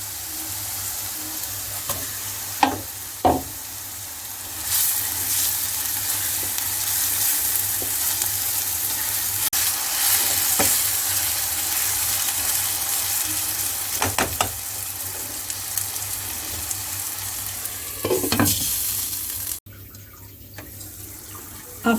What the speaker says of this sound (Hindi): मैरिनेट किया हुआ कीमा डालेंगे, मिक्स करेंगे और हल्की आंच पर 20 मिनट कीमे को पकाएंगे।